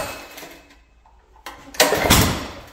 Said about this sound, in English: So it acted like you wanted to start it first, and then it's gonna do that backfiring stuff.